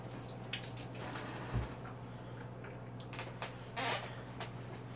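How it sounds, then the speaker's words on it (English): A baby potato is rinsed under a running kitchen tap, with faint steady water flow, soft splashes and brief handling rubs, quiet and close, no voices. "We're gonna rinse that again."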